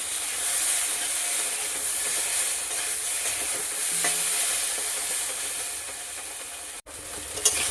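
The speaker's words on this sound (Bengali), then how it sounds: "আদাটা ভালো করে ভাজতে হবে, নইলে কাঁচা গন্ধ লাগবে" Ginger fries in a pan for a drumstick fish curry, giving a steady bright sizzling hiss with faint stirring scrapes throughout and a brief clunk near the end.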